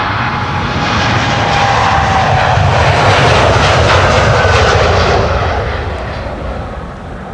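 A KLM jet airliner on flight 639 to San Diego departs Schiphol, its loud engine roar swelling to a close peak mid-pass and then fading as it climbs away, with no talk.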